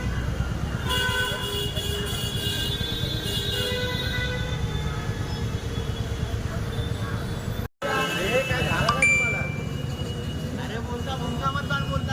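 Horns honk in a stalled traffic jam on the way to Lalbaug, Mumbai. Sustained and repeated tones sound over a dense, loud roar of traffic and crowd, with voices mixed in.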